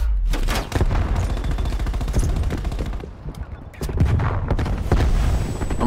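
Rapid bursts of automatic gunfire in Call of Duty Black Ops Cold War, shooting through a wall, loud and close, in two long volleys separated by a brief lull.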